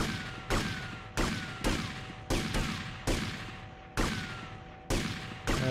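Gunfire in GTA Vice City during a bank robbery mission: eight loud, evenly spaced shots, each with a sharp attack and a decaying ring-out, a steady hum running beneath them.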